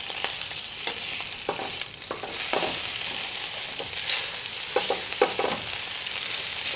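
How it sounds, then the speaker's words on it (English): A pork chop searing in a hot pan gives a loud, steady close sizzle and crackle, broken by occasional scraping stirs. "Keep an eye on our pork chop. Get that nice sear on it."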